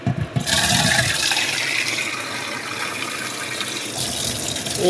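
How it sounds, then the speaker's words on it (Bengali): Water splashes into a pot of dal in a steady, loud, close rushing stream that keeps going for several seconds, then tapers slightly near the end, with no talking. "ডালে জল দিয়ে দিলাম পরিমাণ মতো।"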